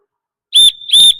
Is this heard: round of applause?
no